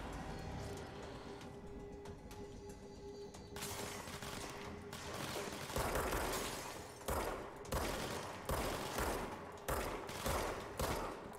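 Gunfire in the video game Control: a run of sharp shots repeating in a fairly even rhythm over a steady game background, growing denser toward the end, no talking.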